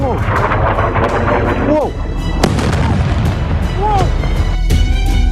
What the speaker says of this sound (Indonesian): Rudal Iran menghantam kawasan permukiman dan menyebabkan puluhan orang terluka